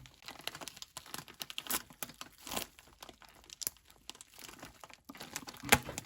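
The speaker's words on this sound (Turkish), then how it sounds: "Hemen paketi açmak istiyorum. Şöyle yine bıçakla." Plastic and cardboard packaging of a toy Nissan Skyline GT-R R34 model car crinkles and tears as a knife works it open, a close run of irregular crackles, rips and taps without speech.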